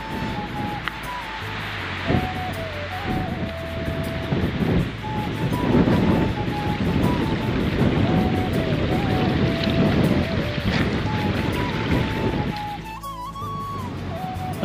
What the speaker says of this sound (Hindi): देखो हवा कितनी तेज चल रही है देखो।